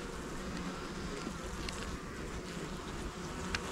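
Honeybees hum in a dense, continuous drone close by while a hive is opened for inspection, with no voices over the buzzing.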